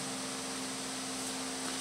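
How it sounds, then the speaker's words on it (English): An electric fan runs inside an art studio, a steady, even whoosh of broadband noise with a faint low hum, constant throughout with no voices. "I apologize for the noise that you might hear. It is my fan."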